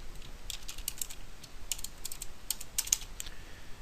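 Computer keyboard being typed on while writing script code, quick irregular clicks of keys in short runs, close and crisp over a faint hum.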